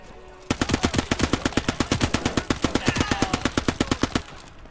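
Rapid bursts of machine pistol fire in the video game Legion of the Damned, a steady string of sharp shots at close range that stops abruptly after about four seconds.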